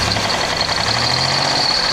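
A worn-out car engine runs steadily at close range with a constant rough drone and a faint high whine, loud and alone with no talk.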